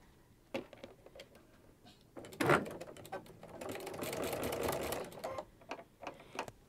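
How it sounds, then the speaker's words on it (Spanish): A sewing machine with a walking foot runs a straight seam through a sherpa fleece blanket, a fast, even mechanical patter in bursts and one longer steady run, fairly close and alone with a few clicks. "Y vamos a tratar de hacer una costura derecha."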